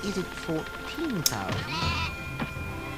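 A bouncing sheep in the Spyro the Dragon video game gives short bleats among game sound effects and chirps, heard close and fairly steady over about three seconds.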